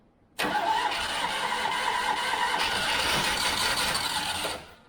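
A Citroen Acadiane van's engine cranks continuously for about four seconds, a loud, close, steady mechanical churning that cuts in abruptly and fades as the starter stops without the engine catching.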